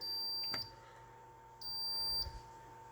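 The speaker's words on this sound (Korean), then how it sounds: "누르고 돌리면은 연속해서 나갑니다. 삐삐삐 소리 나죠." High-pitched electronic beeps from an insulation resistance tester: a short chirp, then a longer steady beep, fairly quiet over a low hum.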